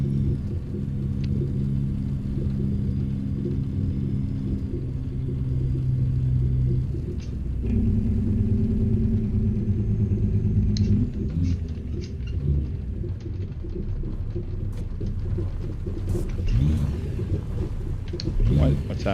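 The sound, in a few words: truck engine rumble in American Truck Simulator video game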